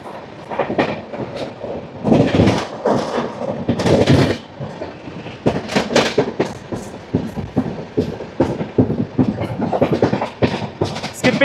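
Rayalaseema Superfast Express, train 12794 from Nizamabad Junction to Tirupati, rattles loudly past a station, with rhythmic clickety-clack of wheels over rail joints and bursts of rushing, clanking noise throughout.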